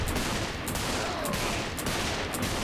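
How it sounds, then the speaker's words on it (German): Pistol gunfire in the Saints Row IV video game, a dense continuous wash of shots with a few sharper cracks at regular intervals, loud and steady with no talk. "die Pistolen sind eigentlich gar nicht so schlecht, mal abgesehen davon, dass sie nicht schnell genug schießen"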